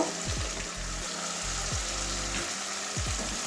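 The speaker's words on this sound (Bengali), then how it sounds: "এবারে এই যে ধনে পাতা পেস্ট করে নিয়েছি মিক্সিতে, এবারে দিয়ে দেবো। এটা কষিয়ে নেব।" Coriander leaf paste frying in a pan, a steady close sizzle with repeated low thuds and scrapes of stirring throughout, no voices.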